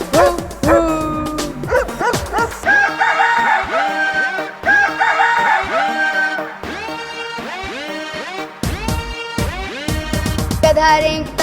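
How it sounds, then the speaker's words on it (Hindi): Dog barking sounds, repeated yaps mixed with rooster-like crowing over a bouncy musical backing, loud and busy throughout. "तो कुत्ता बोले भू भू भू"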